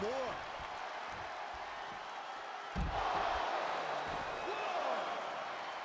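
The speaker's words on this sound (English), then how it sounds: "The sound of this crowd is deafening" Video game arena crowd in WWE 2K23 wrestling, a continuous roar of cheering and applause that swells louder about halfway through, with a commentator's voice over it.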